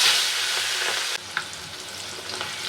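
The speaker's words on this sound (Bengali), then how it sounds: "দেখো চিংড়িটা আমি ভেজে নেব" Prawns fry in mustard oil in a kadai with a dense, continuous close-up sizzle and crackle, with some stirring, easing slightly partway through.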